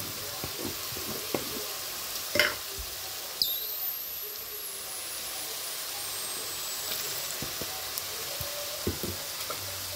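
Potatoes and carrots fry in a pan with salt and turmeric, a soft continuous sizzle underneath occasional stirring clinks and scrapes, with a faint high whine drifting in partway.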